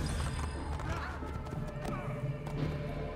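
Horse hooves clip-clop at a steady gallop with a whinny during a checkpoint horse race around Romagna in Assassin's Creed II, over game music and ambient sound.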